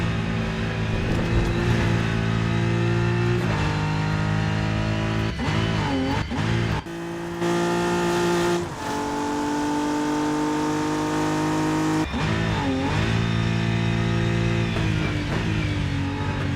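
A race car engine in the RENNSPORT racing game roars loudly and continuously, rising and falling in pitch through repeated gear shifts and revs, with a brief drop partway through before climbing again.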